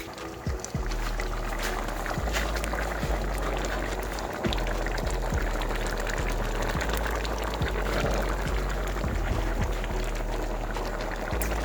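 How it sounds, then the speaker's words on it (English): A pot of Jamaican stew peas bubbles steadily on the stove, a continuous low simmering rumble with scattered soft pops and clicks, fairly close and with no talking. "I'm gonna let it stay right here and simmer"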